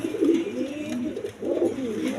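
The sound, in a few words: black shirting pigeons cooing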